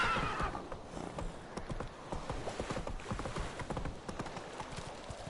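Horse hooves clip-clop in a steady trotting rhythm in The Witcher 3: Wild Hunt video game, close and continuous with no talk over them.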